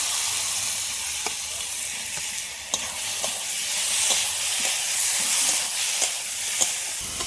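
Fried potatoes hit a spiced masala in a pan, giving a steady broadband sizzle with scattered crackles and soft stirring scrapes throughout, close and continuous with no talk.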